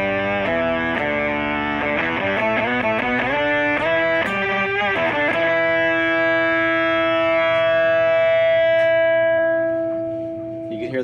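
Electric guitar through a fuzz pedal with an octave-up effect, using the neck pickup at full volume: a quick run of distorted notes, then a long sustained fuzzy note that rings and slowly fades, with no talk.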